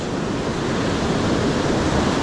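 Ocean waves break on a beach in a continuous loud roar of surf, heard close and alone without any voices.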